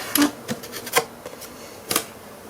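Double-sided adhesive tape being peeled off during paper crafting for a wedding album page, heard as a few short crisp tearing rasps, close and fairly quiet, with pauses between pulls.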